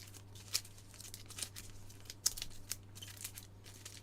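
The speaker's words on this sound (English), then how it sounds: "Shuffle this up again." A deck of game cards is shuffled by hand, faint papery riffles and soft snaps arriving in short irregular bursts, close and quiet.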